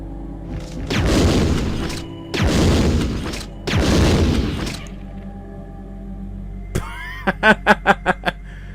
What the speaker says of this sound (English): Would you mind just standing there while I hit you with a grenade launcher?